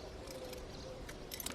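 Car keys jangle at the boot of a Daihatsu Charade, a faint, quiet handling with a few brighter metallic jingles clustered at the end.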